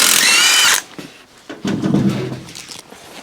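A power tool whirs at high speed for under a second, then stops, with metallic handling clatter and a lower rumble as a wheel comes off a Willys Jeep with a Dana 30 axle, close and loud.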